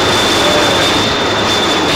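A Meridiana MD-81 airliner taxies in Microsoft Flight Simulator X, its jet engines giving a loud, steady broadband roar with a thin high whine running through it, constant and close.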